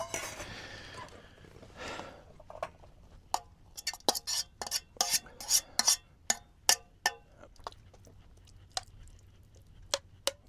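Pearl pasta being dished up from a Fire Maple camping pot: a run of sharp utensil clinks and scrapes against the metal, close and fairly loud, coming in irregular bursts after a brief soft rustle.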